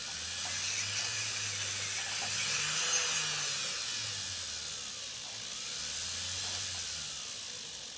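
A steady high-pitched electric nail drill whine with a faint hiss as it files nails, rising and easing slightly over several seconds, close by and without talk.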